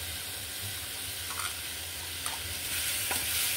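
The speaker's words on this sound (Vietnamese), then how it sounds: "mình bỏ cá vô mình xào chung nè" Fish pieces stir-fry together with pineapple in a pan with a little water, making a faint, even sizzle with a few soft utensil taps spaced across a few seconds.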